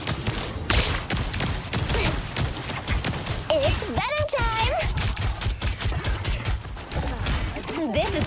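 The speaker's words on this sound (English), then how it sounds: "Time for some fireworks." Peni Parker's fireworks ability in the Marvel Rivals video game sets off rapid crackling bursts and popping blasts amid game sound effects, with a character's voice speaking over the clatter.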